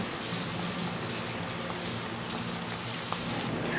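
Vinegar simmering in a pan for pork adobo with tofu gives a steady, close bubbling and sizzling hiss that holds evenly throughout, with no talk over it.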